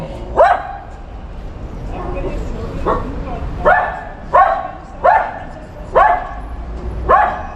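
A street dog barks repeatedly inside a fire-damaged building at Pushkin 4, sharp single barks spaced about a second apart, moderately close, with a faint room murmur underneath.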